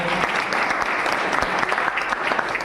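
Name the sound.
applause at a district competition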